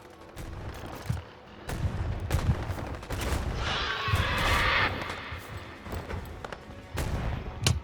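Rapid submachine gun bursts ring out in a video game, dense crackling volleys mixed with impacts and mechanical clatter, loud and continuous.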